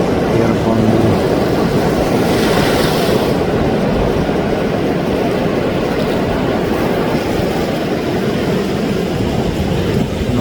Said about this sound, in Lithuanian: Pasiklausykim vandenyno garsą